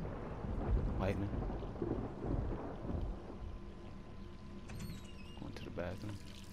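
Thunder and pouring rain in the video game Resident Evil 3 Remake, a steady rain wash with a crackling thunder strike and later rumbles, with someone talking intermittently over it.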